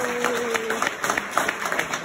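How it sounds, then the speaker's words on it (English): An audience at a music barn award event applauds Janice and Tabatha in a brief burst of scattered hand clapping, fairly close and moderately loud, with a faint sustained tone underneath. "Y'all give them a round of applause."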